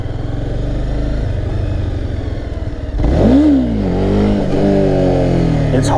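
A Honda CBR300 motorcycle engine hums steadily, then revs up sharply in loud rising and falling surges during a wheelie attempt on muddy ground, close to the rider.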